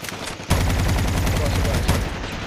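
A rapid, loud burst of gunfire from a video game rattles continuously for about two seconds after a sharp onset.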